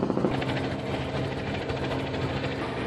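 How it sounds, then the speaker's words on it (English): Steady rotor thrum of a helicopter hovering over water, with a constant engine drone, moderately close and continuous, no voices. "Helicopter."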